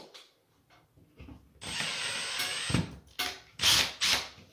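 A power drill drives screws into a ceiling light fitting on drywall, with a close, whirring run of about a second followed by several shorter bursts, separated by quiet handling sounds.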